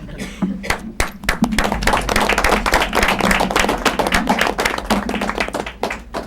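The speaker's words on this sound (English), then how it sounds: "We're not going to clap every time you come in the room, though." Sustained round of applause from a room of people at a school committee meeting, dense overlapping claps throughout at a steady loud level.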